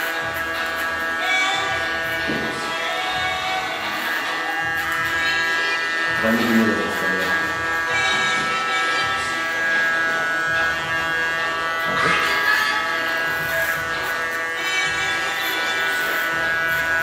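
An electric hair clipper buzzes steadily at a barbershop as it cuts hair, a continuous close hum while people talk over it.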